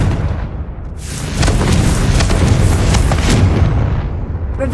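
A Confringo fire spell in the Hogwarts Legacy game explodes with a loud, roaring boom, then a sustained crackling rumble that holds for several seconds.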